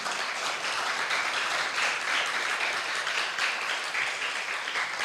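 A church congregation claps steadily for the Holy Spirit during a sermon, a dense, continuous wash of applause at even loudness throughout, with no voices standing out.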